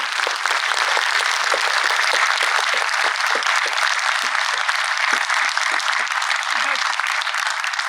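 Steady, dense applause from a large crowd, many hands clapping continuously without pause for several seconds.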